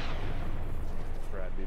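A rocket launch explosion in a video game lands as a heavy, continuous booming roar with a dense low rumble, loud and close for under two seconds.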